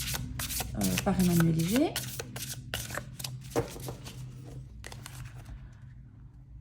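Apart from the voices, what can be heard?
tarot cards being laid out on a table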